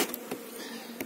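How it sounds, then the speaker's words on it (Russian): Honey bees hum in a beehive during hive work, a steady close buzz with a few brief louder passes of individual bees. "Здесь много молодой пчелы."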